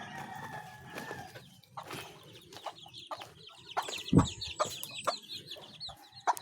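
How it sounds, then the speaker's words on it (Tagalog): A black mother hen clucks softly in a farmyard among her chicks, with short scattered calls and a louder bird cry midway, faint and close amid light background noise. "Ito yung ating itim na inahin."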